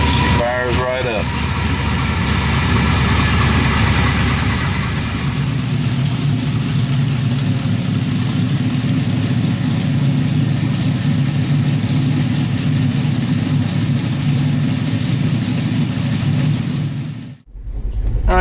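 An LS V8 engine swapped into a 1973 Chevrolet Nova rumbles loudly and steadily at idle, close by, with a brief revving at the start and someone talking over it.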